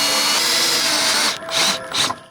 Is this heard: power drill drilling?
yes